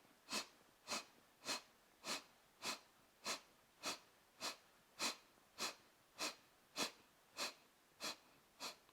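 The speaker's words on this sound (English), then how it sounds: "we're going to do short, sharp exhales through the nostrils whilst pumping the stomach" Kapalabhati breath of fire in a yoga flow: short, sharp nasal exhales pumped from the stomach, repeating steadily about every half second, about sixteen close, soft bursts with no talking.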